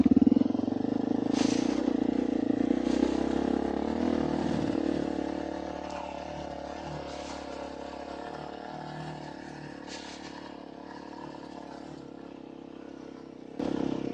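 A motorcycle rides inside the crater of the Galán volcano in the high Andes of Argentina, a steady mid-pitched engine hum that slowly fades over the ride, with occasional rattles and a brief louder burst at the end.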